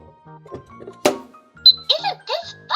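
A Minnie Mouse Magical Microwave toy heating a toy croissant gives off bright electronic chimes and beeps after a sharp click, with a voice speaking alongside.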